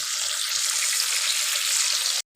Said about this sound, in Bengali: মাছটা ভাজতে ভাজতে মশলাটা আমি করে নিচ্ছি